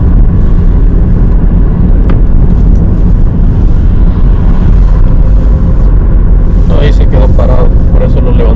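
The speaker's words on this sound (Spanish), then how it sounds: "ahí van todos los helicópteros detrás de ese carro que va en el freeway" Helicopters tracking a car chase over a freeway, a loud continuous rumbling wash that swells and roughens toward the end.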